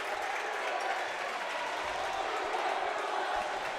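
A crowd at a high school boys' regional basketball game cheers and applauds in a steady, dense roar that fills the gym.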